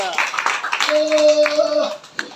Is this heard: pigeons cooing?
no